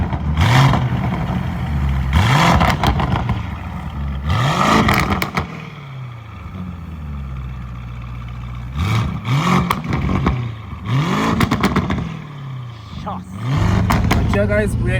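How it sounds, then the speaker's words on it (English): A Novitec-modified Lamborghini Urus with a loud custom exhaust revs in repeated bursts, each sharp rise falling back to a rumbling idle, with occasional voices in between. "Let's listen to this exhaust, ladies and gents."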